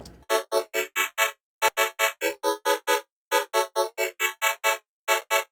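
Future bass vocoder synth with Redux downsampling applied to its mid frequencies, playing a rhythmic run of short, bright, gritty stabs in quick groups with brief gaps, loud and clean with no voices.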